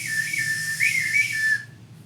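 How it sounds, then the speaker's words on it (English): An Oscar Mayer wiener whistle blown once in a shrill, steady toot lasting over a second and a half, then cutting off, set against a constant background hiss. "Oscar Mayer wiener whistle in my pocket."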